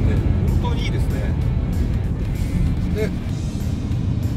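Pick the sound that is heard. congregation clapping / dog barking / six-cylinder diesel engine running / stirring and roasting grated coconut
six-cylinder diesel engine running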